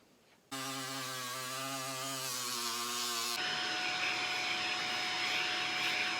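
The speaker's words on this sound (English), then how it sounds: "I'm using a low grit sanding barrel on my Dremel" A Dremel rotary tool with a low-grit sanding barrel starts up with a high whine, then its pitch shifts as it bites into foam floor mat, grinding steadily and loudly at close range.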